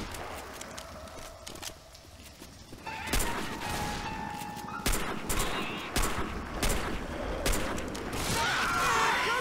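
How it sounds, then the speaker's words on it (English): Gunfire from a zombie shooter game, Left 4 Dead 2, bursts in rapid volleys over busy in-game chaos, with sharp repeated shots growing denser and louder partway through. "Shoot that armor zombie in the back."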